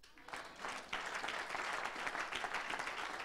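A church congregation applauds in a steady, fairly quiet wash of many hands clapping, rising after a brief moment and continuing evenly, heard at a moderate distance.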